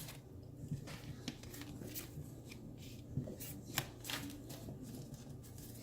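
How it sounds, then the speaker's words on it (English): Tarot cards are shuffled quietly up close, with soft riffling and rubbing in a loose, repeating rhythm and no talking. "I'm going to move over here so that the sound of the shuffling doesn't get on my nerves"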